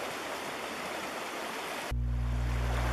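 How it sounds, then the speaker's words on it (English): Stream water tumbles over rocks, making a steady broadband rush for about two seconds. It then cuts abruptly to a low, constant mechanical hum. "The moving water grabs air as it tumbles over rocks, adding oxygen that the fish breathe with their gills."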